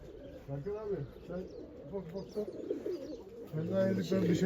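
Pigeons coo repeatedly in a loft setting, soft throaty calls overlapping at close range, with brief chirps from other birds and faint background voices now and then.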